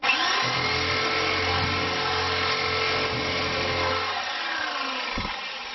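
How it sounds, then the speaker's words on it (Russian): A power drill whirs loudly and continuously while cleaning paint off a bathtub, a steady high motor whine that slowly drops in pitch and winds down toward the end, alone without talk. "Так, плюс можно обработать дрелью."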